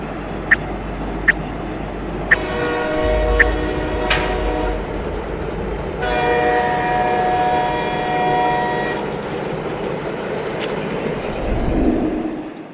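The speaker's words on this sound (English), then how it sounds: "let's get this locomotive rolling" A locomotive rolls along with a steady rumble, broken by long sustained horn blasts and a few sharp short clanks, and no voices.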